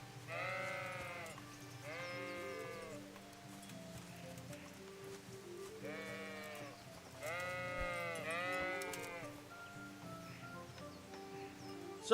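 A sick sheep in the medieval RPG Kingdom Come bleats in several wavering calls, grouped into two bursts, over a soft rain-like background hiss, with no talking.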